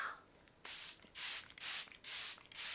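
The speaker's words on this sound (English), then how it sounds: "And some setting spray to melt it all together." Five quick, hissing bursts of makeup setting spray in a row, close and crisp, each lasting about a quarter second with brief pauses between.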